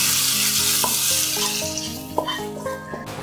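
Egg curry being mixed in a hot pan gives a loud, steady sizzle under a few scrapes of a spoon and a slight tonal hum, with no voices.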